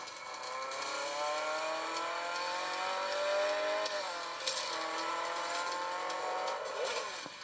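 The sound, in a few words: car engine racing in a mobile racing video game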